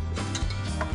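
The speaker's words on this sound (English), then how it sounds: "In the KitchenAid, we like to whip it." A KitchenAid stand mixer running with the whisk attachment, whipping a buttery, frothy mixture with powdered sugar, gives a close, steady mechanical whir with a rhythmic gear-like rattle for about a second.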